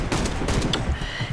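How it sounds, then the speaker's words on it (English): Rapid automatic gunfire from a ZX84MG machine gun in the video game Warface, a dense burst of close, loud shots with sharp cracks, no talking. "I'm here with the ZX84MG. It has 100 rounds."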